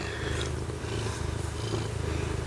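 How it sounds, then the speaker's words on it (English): A male cat purrs loudly and very close, in a steady rumbling rhythm that fills the whole stretch, with no talk over it. "So I'm going to let y'all enjoy his purring for just a minute."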